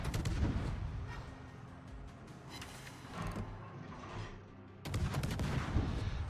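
Tier VII American light cruiser Atlanta firing a gun salvo in World of Warships, dense rolling booms of shell fire with a sudden loud blast near the end, moderately loud over ambient game noise.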